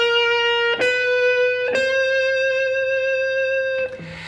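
Sustained electric guitar chords from an overdriven amp with a gritty tone, struck three times and left ringing, played alone and close; the main riff of a song.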